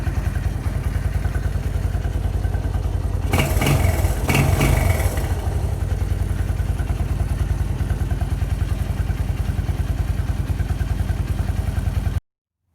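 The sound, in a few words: motorcycle engine running after carburetor cleaning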